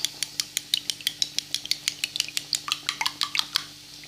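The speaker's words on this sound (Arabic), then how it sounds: "نضربوا البيضه" A utensil beats eggs in a bowl in a quick, even run of sharp clinks and taps, about five per second, close and fairly loud, with no talk.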